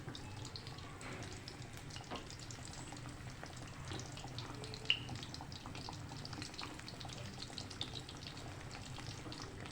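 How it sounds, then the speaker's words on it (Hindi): Fish coated in cornflour and gram flour, Lahori masala style, frying in oil in a kadhai, giving a steady, even hiss and bubbling over a low rumble, with no talking. "अब इसको हम फ्राई करेंगे"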